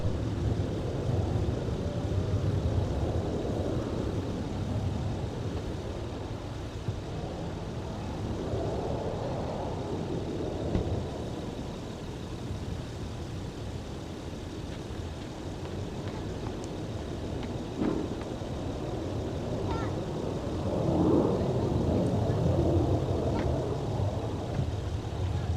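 Delta airliner taking off from runway 30 right at Minneapolis–Saint Paul airport in winter, a broad distant jet roar that swells and fades in waves over steady background rumble.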